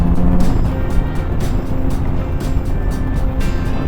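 Kawasaki Z900RS motorcycle engine droning steadily at cruising speed in third or fourth gear on a country B road, a loud continuous rumble blended with rushing wind.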